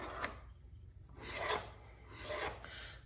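An X-Acto knife scrapes along the snapped edge of a styrene sheet to clean it up, three soft rasping strokes, close and quiet, with pauses between them.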